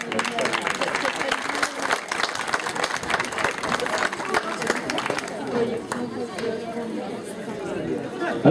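Audience applause at a folk dance festival, the Fiesta San Joaquín y Santa Ana in Santander, rolls on as a steady, dense clatter of many hands, with crowd chatter and voices mixed in throughout.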